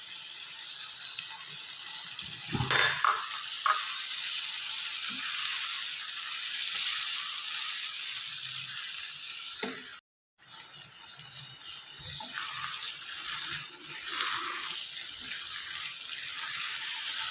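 Onion, tomato, potato and moringa curry sizzles in a pan after yogurt is added, a soft steady frying hiss with occasional bursts of louder crackling and stirring clinks.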